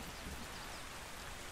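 Rain in the Ark Survival Ascended video game, a faint, even hiss of steady rainfall pattering on surfaces without pause, with no voices over it.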